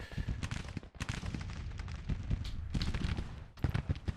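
Musket volleys from Civil War troops on a Grand Tactician battlefield: repeated crackling shots in ragged clusters, with brief pauses between them, heard at moderate distance.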